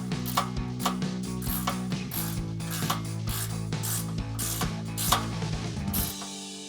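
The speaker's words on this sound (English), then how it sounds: "take a 13mm ratcheting wrench to tighten these down" A 13 mm ratcheting wrench tightens the step bracket bolts on a Jeep Gladiator JT, its steady, close clicking running in repeated strokes with short breaks throughout.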